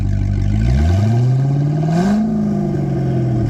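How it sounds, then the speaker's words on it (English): The engine of a wrecked Corvette revs up loudly and close by, with the pitch climbing, dipping, then rising again before it settles into a rough idle. "Rev it up a bit. Like, give it a good little bit."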